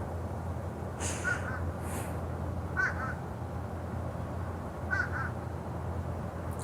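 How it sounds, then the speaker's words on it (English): A crow caws three times at moderate distance, each call a short double or triple burst spaced about two seconds apart, over a steady low background hum with no talking. "but we do have a crow that's with us right now."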